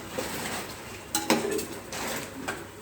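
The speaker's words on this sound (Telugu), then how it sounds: "ఇలా మధ్య మధ్యలో కలుపుకుంటే బాగా ఉడుకుతాయి." A spoon scraping and clinking against a pot while chicken curry is stirred, a few distinct metallic knocks and scrapes over a soft simmering background.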